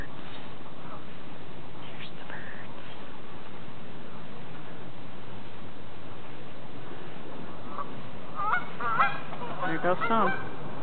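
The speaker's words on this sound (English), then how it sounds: "I like to call geese in the area Greater Illinois honking birds." Geese honking in a rural Illinois field, a short cluster of calls arriving near the end after a long stretch of quiet outdoor ambience, moderately close and fairly faint.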